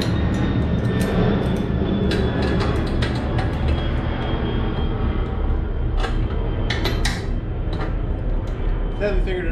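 A jet airplane flying over near the Memphis airport, a loud steady roar that fills the whole stretch, with faint clicks and clatter from motorcycle work on a Sportster Iron 1200 underneath.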